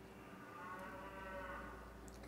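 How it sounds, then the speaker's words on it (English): A cow in the Miitopia video game lets out a drawn-out, low moo lasting a couple of seconds, steady and fairly quiet, with no talking over it. "Honey, it's a cow"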